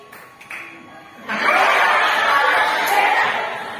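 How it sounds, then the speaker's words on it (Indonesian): A classroom of students breaks into a loud burst of hand clapping after a short quiet stretch, the noisy clapping mixed with chatter and fading slightly toward the end. "Tepuk tangan 3 kali."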